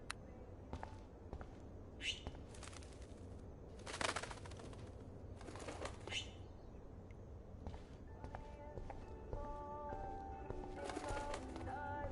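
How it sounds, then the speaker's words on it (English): In Life Is Strange, a trapped bird coos and flutters faintly in an enclosed room, with soft intermittent wing flaps and low calls. "that poor little bird has been trapped in here"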